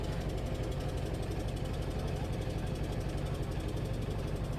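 A trawler boat's engine running on a river, a steady low mechanical chugging with an even rapid knock, continuous and moderately quiet throughout.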